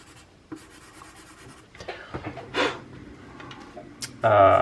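Scratchy strokes of a chalk pastel pencil on paper, in short irregular bursts close up, with a sharper louder scrape at the end.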